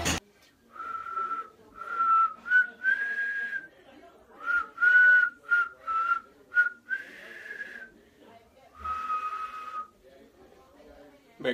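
A person whistles a lilting Christmas-time tune, close and clear, in phrased bursts with wavering notes and short pauses between them.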